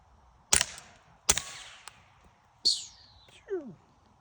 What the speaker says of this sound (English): PLA 3D printed suppressor on a 223